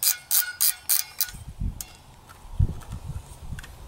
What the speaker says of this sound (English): Take your barrel shroud. You ratchet it into place.